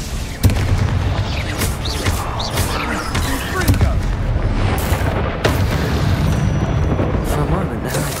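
Confringo and Bombarda spells detonate in Hogwarts Legacy: repeated heavy booming explosions with rumbling low tails follow one another closely, loud and dense, while a voice calls out over the blasts.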